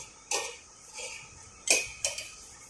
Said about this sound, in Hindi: चिकन को अच्छे से फैला लेते हैं पतीले में